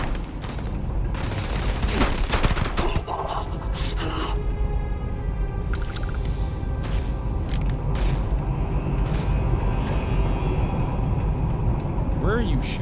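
Gunfire in a shooter video game crackles in rapid bursts and scattered shots, mixed with mechanical game effects, while a player talks loudly over it.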